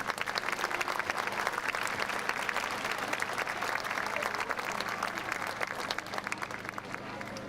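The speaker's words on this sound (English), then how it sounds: "So if you would please give our entire teaching staff a round of applause as well." Sustained crowd applause for a school's teaching staff at a pep fest, dense steady clapping from a large gathering that fills the whole stretch without letting up.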